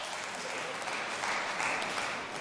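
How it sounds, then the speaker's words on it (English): Sustained audience applause in a hall during a 2008 public debate on God and war, a steady wash of many hands clapping at moderate distance with no speech over it. "You're going to clap that? Who clapped that?"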